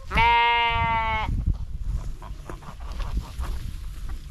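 A hungry sheep on a summer pasture lets out one loud, drawn-out bleat close by, followed by quieter rustling and shuffling sounds.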